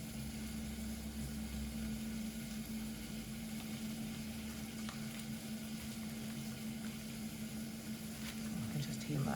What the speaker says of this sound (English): I can just hear my onions simmering away here.